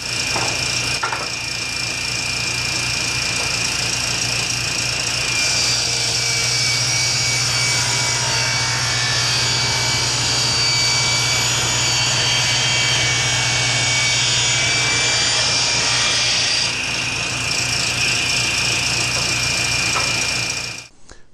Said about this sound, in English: We're going to do that on our table saw.